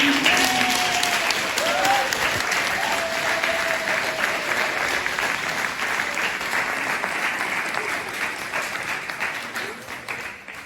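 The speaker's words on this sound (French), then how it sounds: "On peut encore applaudir pour le groupe." A congregation in the church of Saint-Joseph des Tarterêts applauds the music group at Mass, sustained dense clapping filling the space for about ten seconds and slowly tapering, with faint voices briefly audible early on.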